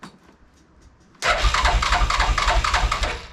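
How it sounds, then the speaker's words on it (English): A Yamaha Rhino 660 UTV engine with a new starter stays quiet at first, then cranks and catches at once. It settles into a loud, close, steady idle with a fast rhythmic putter. "So we're ready to turn the key for the first time with the new starter."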